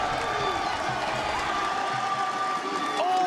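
An esports arena crowd at a playoff match cheers and whoops in a loud, continuous roar, with scattered shouts rising above it and a commentator's voice faintly underneath.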